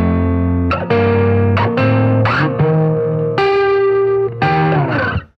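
Electric guitar played straight into an amp's dirty channel with gain at about six of ten, no pedals, ringing distorted chords that change every second or so, loud and sustained with no talking.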